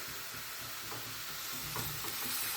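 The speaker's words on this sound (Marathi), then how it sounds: "आता आपण याला छान हलवून घेऊया" Finely chopped beetroot leaves are stirred in a pan over a soft, constant sizzle, with muffled scraping and shuffling of the greens rising and falling close by, and no talking.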